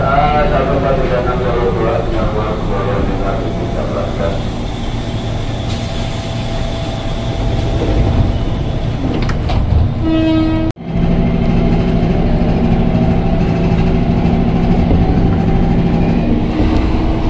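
A KRL commuter train pulls out of Pondok Cina station on the Bogor line, a loud, continuous rumble of wheels and motors close by, with a horn-like tone near the middle and a sharp break before the noise resumes.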